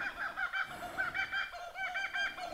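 Birds calling across a misty Australian landscape, a continuous background chorus of honking, clucking calls repeating in short bursts at moderate distance, with no talking.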